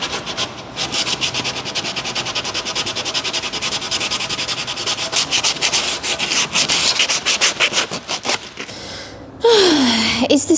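A handsaw rasps through plywood for a van kitchen piece in quick repeated back-and-forth strokes, loud and close, the rhythm speeding up before stopping, followed by a brief higher squeal.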